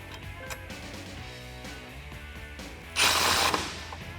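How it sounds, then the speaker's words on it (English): A socket wrench with a 13mm socket ratchets bolts on a truck side step bar, giving a fast, even clicking run close by, then a brief louder burst of metal rattle. "Grab your 13mm socket and tighten these down."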